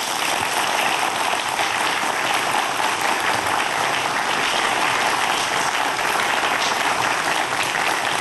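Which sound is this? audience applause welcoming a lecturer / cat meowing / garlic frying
audience applause welcoming a lecturer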